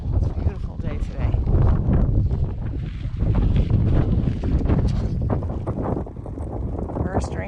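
Wind buffets the microphone on a breezy day along a Scottish hiking trail, a continuous loud rumbling gust with people talking over it.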